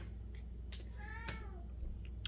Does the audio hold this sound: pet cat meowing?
yes